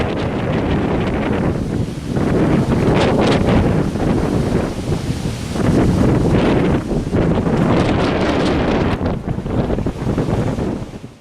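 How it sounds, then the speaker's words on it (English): Strong windstorm gusts of 50 to 65 miles per hour in Toledo, roaring and buffeting a microphone with loud, continuous whooshing rumble that swells and eases but never stops. "Wind whipping is what many residents heard this morning as winds came into the city of Toledo about 50 to 65 miles per hour"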